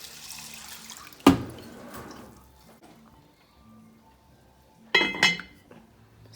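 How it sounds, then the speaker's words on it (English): Water from a pitcher pours into a pot of 15 bean soup in a kitchen, two short splashing bursts with quiet gaps and faint clinks between them. "Eight cups of water. I'm just adding a whole pitcher full."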